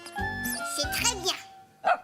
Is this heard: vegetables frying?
no